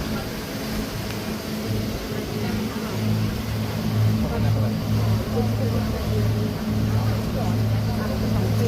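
A boat moves across water at dusk in Dubai, its engine a steady low drone with continuous water wash, carrying on evenly throughout with a voice speaking intermittently over it.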